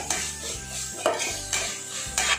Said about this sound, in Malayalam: ഇത് നന്നായിട്ട് വഴറ്റിയിട്ട് ഇതിൻ്റെ പച്ചമണമൊക്കെ മാറണം